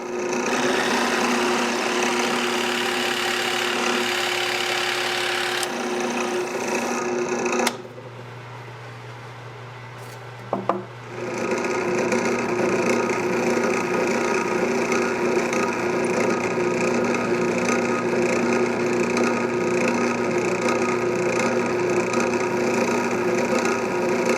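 A power drill bores screw holes and a cord hole in a wooden lamp base, running as a loud steady whine for long stretches with a brief quieter pause in the middle.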